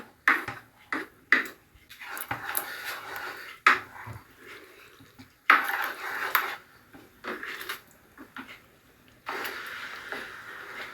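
Thick paneer masala curry of ground onion and tomato being stirred in a pot, with intermittent metallic clinks and scrapes of a spoon against the pot, irregular and close, between quieter pauses.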